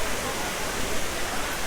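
The Kaigal waterfall near Bangalore rushes in a brief, steady wash of dense broadband noise with no break.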